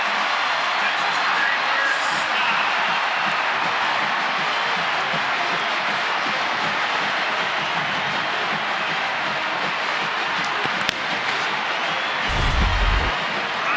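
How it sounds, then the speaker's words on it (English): A home crowd at an Indiana Hoosiers vs Cincinnati Bearcats football game roars steadily after a 75-yard touchdown pass, a broad sustained cheer filling the stadium with a commentator's voice running over it. "that'll give the home crowd something to cheer about"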